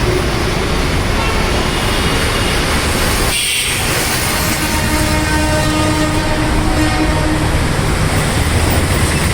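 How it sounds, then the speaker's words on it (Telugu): A loud, continuous rumble of trains rolling past overhead on a bridge, heard from a waterlogged underpass below, with a brief dip partway through and a steady rattling roar that carries on. "పైన ట్రైన్స్ పోతున్నాయి సౌండ్ కూడా వస్తున్నాయి"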